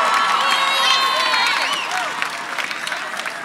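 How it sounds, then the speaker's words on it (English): High school graduation crowd for the Southfield High School for the Arts and Technology class of 2019 applauding and cheering loudly, with shouts and whoops over steady clapping that eases slightly toward the end. "let's give her a round of applause"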